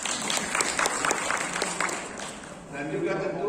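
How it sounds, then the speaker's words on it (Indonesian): An audience at an engineers' association branch meeting claps in a burst of applause that fades after a couple of seconds, while a voice talks over it. "Tepuk tangan buat ketum kita."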